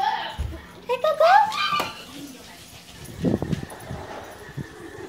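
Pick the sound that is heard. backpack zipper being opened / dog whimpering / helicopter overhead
dog whimpering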